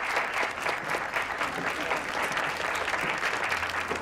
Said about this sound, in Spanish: Quisiera un fuerte aplauso para ella.